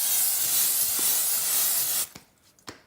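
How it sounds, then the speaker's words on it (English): Cooking oil spray hisses steadily into a bowl for about two seconds, close and fairly loud, then stops, followed by a couple of soft clicks and light knocks. "Then we will spray the bowl to make sure it doesn't stick."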